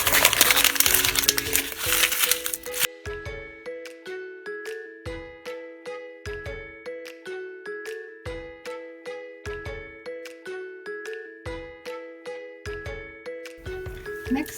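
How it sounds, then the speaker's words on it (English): A sheet of white paper is crumpled by hand in a short, close, crackling burst at the start. A repeating tinkling melody follows for the rest of the clip. "Next I need a piece of white paper and I'm going to crumple it up."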